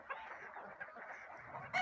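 Geese and ducks honk continuously in a flock on an organic farm with chickens nearby, a dense chorus of nasal calls that stays close and steady.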